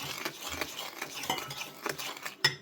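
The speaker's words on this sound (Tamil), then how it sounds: "பாலை காய்ச்சி இப்படி அடித்து கொண்டு வர" Hot milk whisked vigorously by hand in a vessel for cappuccino froth, a close, steady stream of stirring and scraping clinks with brief louder knocks, no voices.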